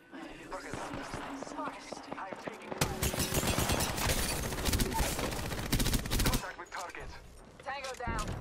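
Gunfire in the video game Apex Legends Arenas, sporadic shots giving way to a dense burst of rapid automatic fire in the middle, then scattered shots, with game voice callouts over it.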